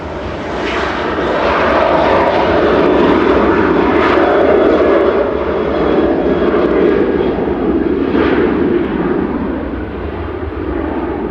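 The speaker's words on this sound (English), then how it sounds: "Ryanair departing now." A Ryanair jet departs Manchester Airport bound for Santander, its engines a loud, steady roar that swells and holds close by for the whole stretch with no talking.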